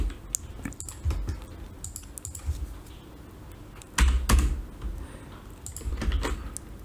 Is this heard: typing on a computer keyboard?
yes